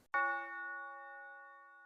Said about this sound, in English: It's a tubular bell. So let's go ahead and listen to what it sounds like.